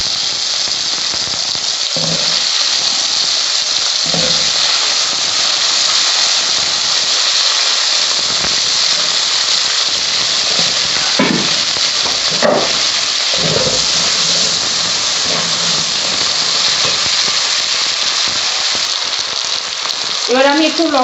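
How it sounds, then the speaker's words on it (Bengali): Potatoes fry in oil in a pan, a loud, steady, close crackling hiss that runs throughout, with occasional louder pops and faint voices in the background. "এবার আমি আলুগুলো ভেজে নিচ্ছি"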